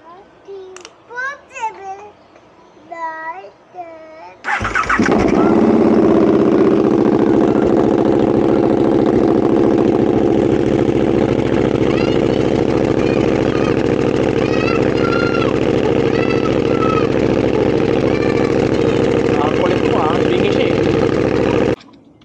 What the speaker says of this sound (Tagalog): So, start ko yung motor